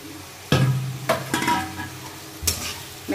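Semolina and potato being stirred and fried in a pan for a spicy jhal suji, with a few sharp scraping strokes and a low sizzle close by, no talking.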